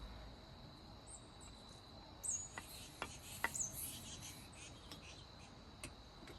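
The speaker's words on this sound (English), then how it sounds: "Some birds are getting greedy at the feeder." Birds squabble at a backyard bird feeder in faint, brief chirps and calls, heard at a distance over a steady background of insect-like hiss.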